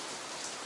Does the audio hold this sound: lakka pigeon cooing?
no